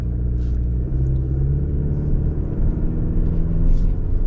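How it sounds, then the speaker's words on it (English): A 2024 GMC Canyon AT4X pickup's four-cylinder engine rumbles steadily from close by in two-wheel drive, a low continuous drone that swells slightly as it accelerates, with no talking over it. "you hear 4-cylinder in a pickup truck"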